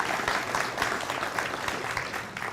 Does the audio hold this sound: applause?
yes